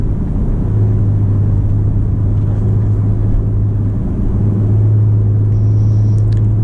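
A Porsche 991.1 Carrera 911 engine drones steadily while driving, a loud, constant low hum beneath road rumble with a brief dip in the middle and no talking.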